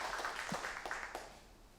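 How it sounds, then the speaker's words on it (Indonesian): A church congregation claps during a worship service, the applause soft and somewhat distant, fading out over a couple of seconds. "Tepuk tangan buat Tuhan kita Yesus Kristus."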